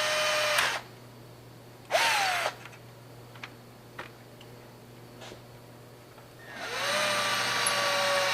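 A power drill bores holes for a Toyota Tacoma dash mount plate, with three whining bursts separated by pauses, a few clicks and taps between, then a longer sustained run at the end, close and loud.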